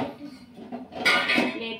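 Steel bowl and cooking utensils clatter in a home kitchen, with soft scraping early on and a brighter, louder burst of metallic clinking in the second half, close and alone.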